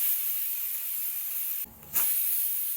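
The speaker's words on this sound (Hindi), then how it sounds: "कुकर का ढक्कन लगा देंगे और स्लो मीडियम आंच पर 2 सीटी आने तक वेट कर लेंगे हम" A pressure cooker on slow-medium heat while making soya pulao releases a steady steam hiss, briefly cut off before resuming loudly, with no talking.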